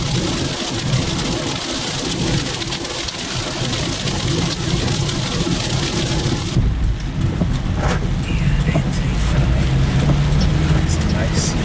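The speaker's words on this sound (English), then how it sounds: "Getting heavy rain from side." Heavy rain pours down during a Florida thunderstorm chase, hissing loudly and continuously, with the sound shifting partway through as if heard from a different spot, near and dense.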